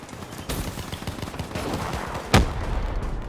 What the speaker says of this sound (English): That was one hell of a jammy grenade there.